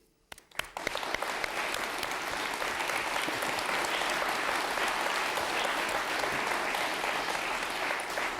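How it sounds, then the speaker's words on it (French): A large television studio audience applauding steadily, dense clapping that swells quickly after a brief start and holds loud and even throughout. "C'est peut-être prématuré d'applaudir, il faut peut-être attendre la fin."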